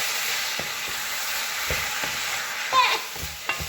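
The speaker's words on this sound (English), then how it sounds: "I'll give this a quick stir" Red peas stirred into a pot of vegetarian soup, with a continuous sizzling hiss broken by several soft spoon knocks and scrapes near the end, close by and without speech.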